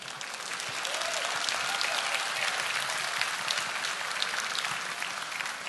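Audience applause during a comedy group-therapy stage act, a steady, fairly loud round of clapping from a crowd that holds evenly throughout.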